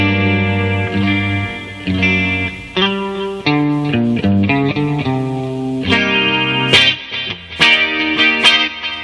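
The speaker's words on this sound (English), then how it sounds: "I'm using reverb and then clean tone, little bit maybe delayed too." Clean electric guitar plays a sequence of sustained chords and single notes, with a reverberant, slightly delayed tail ringing after each.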